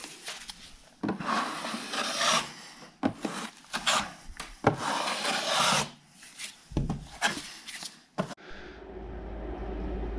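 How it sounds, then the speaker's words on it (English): Drywall knife lightly skimming a thin coat of joint compound over sheetrock, with close, intermittent scraping strokes broken by short pauses and no talk. "You're really just trying to lightly skim over the top, take any extra off."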